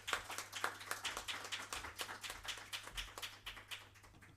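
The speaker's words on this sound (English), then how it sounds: "Please, round of applause for Angela." Quiet, scattered clapping from a conference audience at a tech and human rights summit welcomes a speaker, a steady patter of hand claps lasting a few seconds, faint and somewhat distant.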